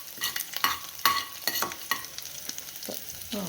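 A spoon stirs and scrapes through a pan of puffed rice snack frying in oil with garlic and turmeric. Quick rhythmic stirring strokes sound close over a soft background sizzle.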